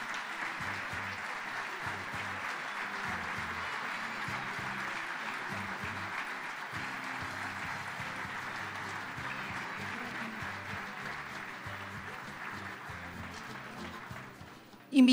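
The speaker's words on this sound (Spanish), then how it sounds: "Así hacemos continuo este aplauso para cada uno de ellos." Sustained applause from an audience at a ceremony honouring war veterans and the fallen with commemorative coins, a steady, fairly soft wash of clapping lasting the whole stretch with a low murmur beneath, cut off abruptly at the end.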